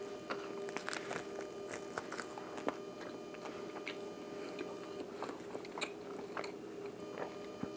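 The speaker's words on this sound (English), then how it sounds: "That was a big bite" Someone bites and chews homemade no-knead bread spread with butter, soft crunchy chomps and close mouth sounds repeating irregularly for several seconds at low level, with no talking.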